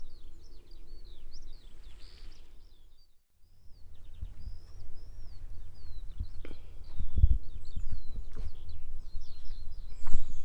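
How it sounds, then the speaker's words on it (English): Birds sing in high, thin chirps and warbling phrases throughout, fairly faint and distant over outdoor wind and occasional footsteps in a meadow on Dunstable Downs. "You hear the birds?"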